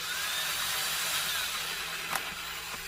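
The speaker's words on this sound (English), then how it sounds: "I think if I drill the holes right here, I'm going to use my drill and I'm going to go really slowly" A power drill bores slowly through a thin painted wooden board, giving a steady, close, high whirring drone that holds evenly and eases off briefly near the end, with no speech.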